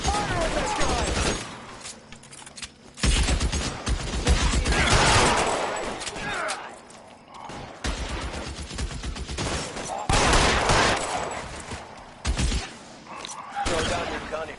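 Repeated bursts of gunfire, including rapid machine-gun fusillades, ring out in a shootout in the video game LA Noire, loud and close over background game audio with voices talking intermittently.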